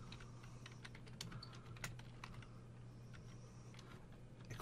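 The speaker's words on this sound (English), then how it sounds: "I'm just going to type hello world," Quick, light keystrokes on a computer keyboard as JavaScript code is typed, a steady irregular patter of close clicks over quiet room tone.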